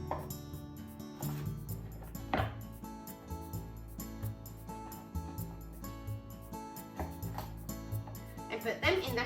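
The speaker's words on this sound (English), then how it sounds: "let's cut both ends of the green beans." Green beans have their ends cut off on a board, with a few sharp knife chops at irregular intervals under steady background music.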